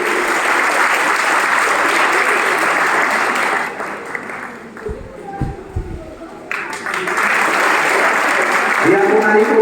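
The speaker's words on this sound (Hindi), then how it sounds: "ताली बजाइए भाई।" Students and families at a felicitation ceremony at a coaching centre in Chanpatia clap in a steady burst that drops away for a few seconds with some thumps, then resumes just as full.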